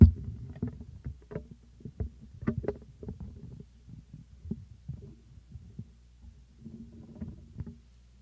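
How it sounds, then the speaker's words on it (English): A microphone is shifted and handled, giving irregular thumps, bumps and low rumbling scrapes up close for several seconds. No one speaks. "let me move this mic down, so sorry for the noise"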